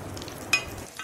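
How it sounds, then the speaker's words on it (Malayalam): Breaded food fries in hot oil with a soft, close sizzle and a single sharp crackle midway through the short moment. "ഇനി നമുക്ക് എണ്ണയിലിട്ട് നന്നായി പൊരിച്ചെടുക്കാം."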